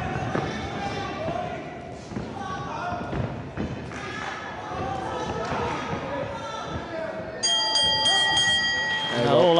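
A boxing ring bell rings out at the end of the final round of an amateur 52kg bout, a bright, ringing tone arriving near the end over crowd noise and commentary.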